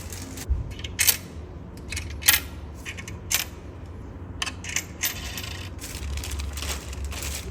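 Metal washers for a carbon fiber strut brace install on a 2025 BMW M2 LCI clink and rattle as they are handled, a string of sharp bright taps in irregular clusters close by over a quiet background.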